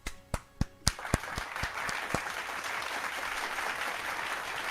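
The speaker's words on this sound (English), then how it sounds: "Can we get round of applause, Sean, for Chat FM?" A few sharp, separate claps open, then a thin smattering of applause settles into a steady, light patter from a small group, no voices on top.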